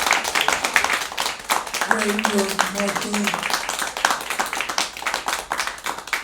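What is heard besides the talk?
round of applause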